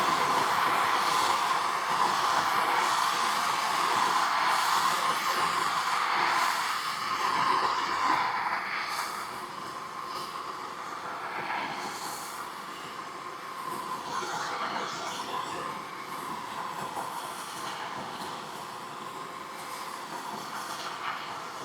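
A MAP gas torch flame heats metal lines for hammer forming in a kit car workshop, giving a steady, loud roaring hiss that holds nearly constant and dips slightly partway through.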